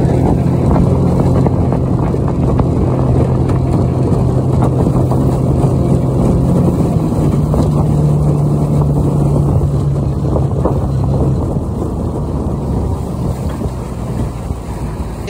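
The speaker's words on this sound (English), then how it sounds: "Just left that clip on so that you can hear how windy it was and the water." A motorized boat travels a river in Guyana, its engine a steady low drone beneath loud, continuous wind buffeting and rushing water, close and unbroken throughout with no talking.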